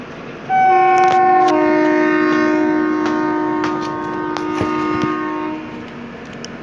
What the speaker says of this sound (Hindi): गाड़ी ने हॉर्न दे दिया है